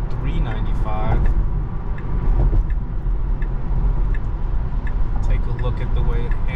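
A Tesla car driving itself on FSD beta along Interstate 695 near Washington DC, with a steady, close road and tire rumble throughout and a brief voice over it.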